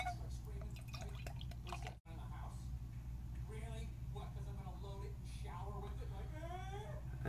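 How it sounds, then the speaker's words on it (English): Dogfish Head 90 Minute IPA beer poured from a bottle into a glass, a soft, close trickling and dripping of liquid running quietly for several seconds, with a brief break near the start. "And that poured really nice."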